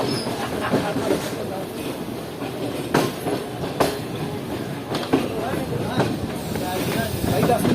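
Karakoram Express passenger train rolling on rails, steady rumble with periodic clickety-clack wheel beats and faint hiss, loud and close from inside the carriage, with voices murmuring underneath.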